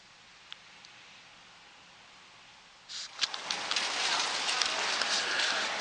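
Rain falls outdoors over a mostly empty parking lot, a faint soft hiss at first that swells into a louder, steady patter for the rest of the stretch, with no one talking.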